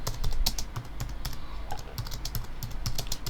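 Typing on a computer keyboard while setting up Facebook ads: quick, close key clicks in uneven bursts with brief pauses and no talking.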